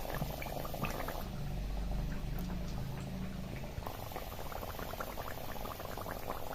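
Steady bubbling, crackling sizzle of potato fritters frying in well-heated oil, continuous and fairly loud throughout with no voices.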